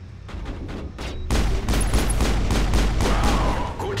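Gunfire in the video game Mass Effect: rapid, loud bursts of automatic shots that build into a dense, continuous barrage of close weapon fire with heavy low booms.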